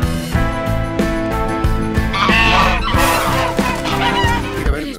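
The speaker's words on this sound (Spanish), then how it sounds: "Eso no son patos. Son ocas." Several geese honk and cackle loudly in a busy, overlapping racket, with shrill calls rising over music.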